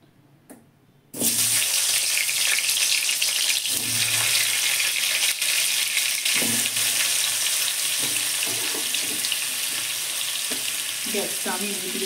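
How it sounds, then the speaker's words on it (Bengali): Potatoes go into a hot kadai for frying, setting off a loud, steady sizzle that starts abruptly after a quiet moment and continues with occasional stirring clinks. "আলুটা ভেজে নিই।"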